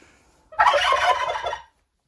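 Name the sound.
turkey gobbling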